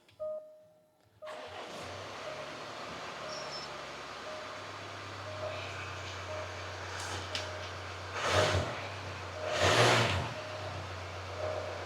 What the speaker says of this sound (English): now with that car all ticking over lovely and sounding like a little Singer sewing machine